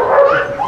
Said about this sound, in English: he's just shouting, barking everywhere